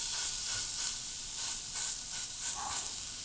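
A large pork-fennel sausage-meat burger patty hits a hot pan and sizzles loudly and steadily, a close, bright crackle with fat spitting in small bursts.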